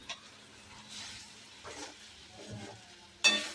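Churma being stir-fried in a pan with chili powder and turmeric that were fried first, heard as a few soft scraping stirs that end in a brief, sharper clatter.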